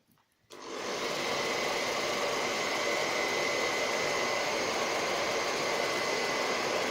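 Heat gun switched on to soften stretchy plastic for shaping, starting abruptly and then blowing a steady, loud, close hiss-and-whir of hot air with no speech.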